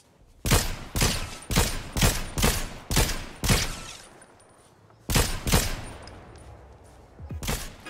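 Gunfire in the Fortnite video game, a rapid series of loud sharp shots in two bursts with a short pause between, close and dominant.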